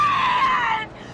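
A waitress in a horror movie scene shrieks at trucks: one sustained, piercing scream that slides slightly downward in pitch before breaking off after about a second.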